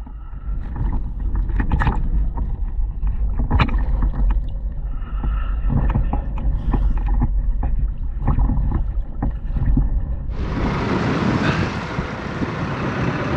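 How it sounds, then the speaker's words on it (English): Underwater recording while scuba diving over maerl beds: a boat's engine and propeller churn nearby as a steady loud rumble with gurgling bubbles, growing into a bright rushing hiss near the end. "There's the boat, it's not too far away."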